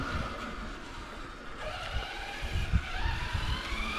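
An MP Maxx TRK Plus radio-controlled car running on a 4S battery, driven gently in a small space, with a steady whirring motor and tyre noise that swells slightly in the later seconds.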